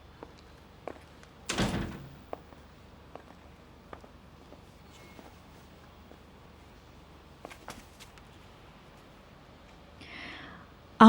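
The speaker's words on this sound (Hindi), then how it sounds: "तो फिर ये दरवाजा बंद कर देते हैं।" A single door is pushed shut with a solid thump early on, followed by quiet room noise, faint knocks and footsteps, and a soft shuffling rustle near the end.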